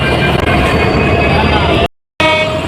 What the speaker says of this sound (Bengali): আমাদের ট্রেনটি ছেড়ে দিয়েছে